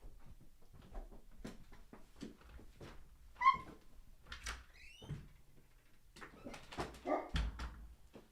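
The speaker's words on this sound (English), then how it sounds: "Let me get the dog out of here" A dog in a room makes scattered faint whimpers and small sounds among soft bumps and knocks, with a few brief louder moments, all quiet and close.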